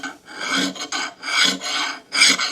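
A metal file rasps across a cheap axe head in steady push strokes, several distinct gritty scrapes with short pauses between them, close and fairly loud.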